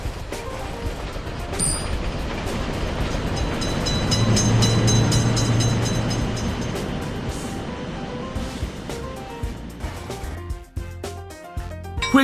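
A train roars through a level crossing in a railroad crossing video game. The sustained rumble swells and then eases, a horn-like tone sounds, and the clip ends with intermittent game beeps and clicks.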